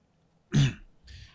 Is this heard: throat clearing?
yes